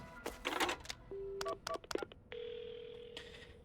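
Telephone keypad tones dial out in a mystery video game, a string of short beeps followed by a steady ringing tone, calling an ambulance; no one speaks.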